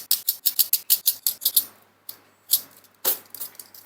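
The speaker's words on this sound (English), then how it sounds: "I think I need to sharpen the pencil." A pencil being sharpened, a rapid series of crisp scraping rasps in a regular rhythm, then a few slower, spaced strokes, close and clear with no talking.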